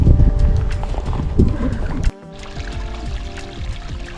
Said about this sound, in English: It was just a nice relaxing sound when you're out on the river and you just hear that water running.